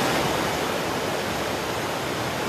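Flash-flood water rushes fast through a North Fort Worth neighborhood's streets after a creek overflows, making a dense, steady roar like river rapids with no pauses.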